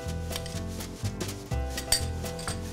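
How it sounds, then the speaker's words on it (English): Seasoned pork tenderloin goes into warm olive oil in a pan, with metal pan and utensil clatter and scraping over a low, soft sizzle, and no one talking. "take our seasoned pork and get it right here into this nice warm olive oil"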